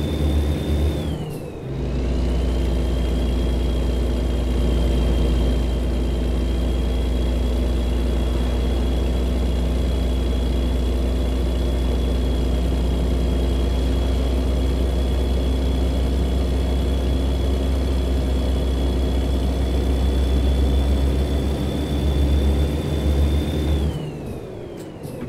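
A Kenworth truck engine runs at a steady low idle throughout, a loud, continuous heavy rumble with a faint constant whine above it, heard up close with no talk.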